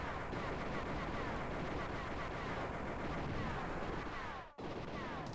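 Dense, continuous gunfire from an arcade video game, rapid shots layered over a loud battle din, briefly cutting out near the end before resuming.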